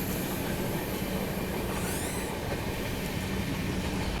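The Kolkata Dibrugarh Express rolls around a sharp curve in a steady, loud rumble of wheels and carriages, with a brief high wheel squeal partway through and no talking.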